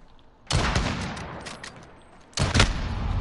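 Rapid bursts of gunfire in a video game shootout, two loud clusters of shots about two seconds apart, close and sharp.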